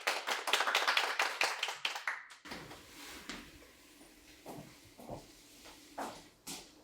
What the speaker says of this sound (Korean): 학생 여러분들께서는 큰 박수로 맞이해 주시면 감사하겠습니다